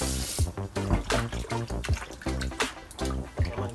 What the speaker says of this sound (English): So first thing we're going to do is wash the meat.